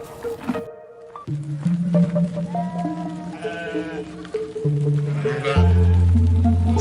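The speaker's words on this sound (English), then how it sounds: "sheep," Sheep bleating loudly and close by, several wavering cries in succession over a low background rumble.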